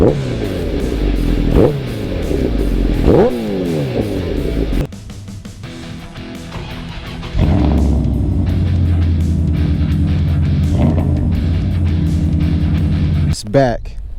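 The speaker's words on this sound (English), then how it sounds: "Give you guys a couple revs here." A motorcycle engine revs loudly several times nearby, rising and falling in pitch, then idles with a rough rumble before another sharp rev.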